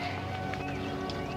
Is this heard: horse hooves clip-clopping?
yes